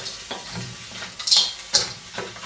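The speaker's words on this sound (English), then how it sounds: "In with the mince. Stir around," Frozen beef mince frying in a pan for chilli while being stirred, a steady close sizzle with brief scraping strokes and two sharper hissing bursts partway through.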